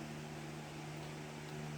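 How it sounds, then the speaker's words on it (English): A low, steady electric hum from a running electric fan with a constant airy whoosh, faint and unchanging throughout. "You'll have to excuse the fan because it's very hot."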